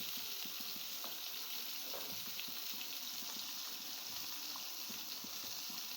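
Sliced eggplant frying in a pan makes a faint, continuous sizzle and hiss, with small crackles scattered evenly throughout and no speech.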